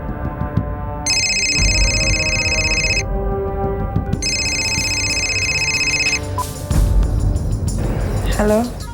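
A telephone rings in a Hindi crime drama scene, two long electronic trilling bursts separated by a short gap, loud over a steady background, followed by a voice speaking.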